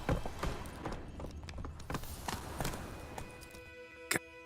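Horse hooves clip-clopping in The Witcher 3, a steady run of soft beats under faint game ambience with a brief louder knock near the end.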